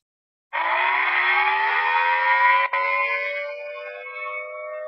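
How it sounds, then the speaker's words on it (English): A loud, steady wailing civil defense air raid siren, used for tsunami warnings in Hawaii, starts abruptly and holds a sustained tone, with a brief dip before it lowers slightly in pitch, heard alone. "a lot of the sirens are older. They were originally air raid sirens."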